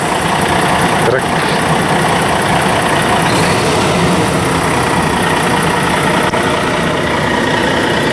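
A truck engine idles nearby with a steady, even rumble and constant hum, while someone talks over it.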